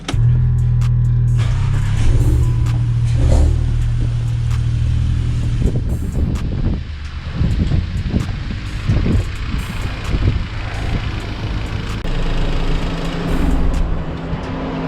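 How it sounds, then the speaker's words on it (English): A bagged Volkswagen Golf 7 GTI engine cranks and catches near the start, then settles into a steady, close idle with a low, continuous rumble for the rest of the clip, with no voices heard. "Okay, now Kola, you can start the car."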